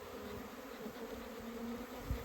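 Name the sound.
honey bees buzzing at opened hive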